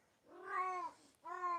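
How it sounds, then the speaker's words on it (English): A cat gives two close, drawn-out meows, the first longer and the second starting after a brief pause, in an otherwise quiet room. "Control the cat."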